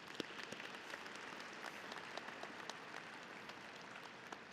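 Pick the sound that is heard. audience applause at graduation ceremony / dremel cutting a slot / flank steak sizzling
audience applause at graduation ceremony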